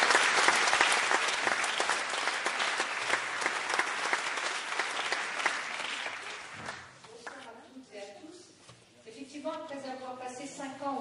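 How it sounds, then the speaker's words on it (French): An audience breaks into strong, dense applause that carries on for several seconds, then thins and fades as a voice begins speaking over the tail end. "Merci, on peut l'applaudir"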